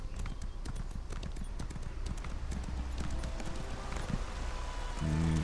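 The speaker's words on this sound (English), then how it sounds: "Get off the horse." Horse hooves clip-clop at a steady walking pace in the video game ESO, with a continuous string of close, rhythmic hoofbeats that ends in a low hum.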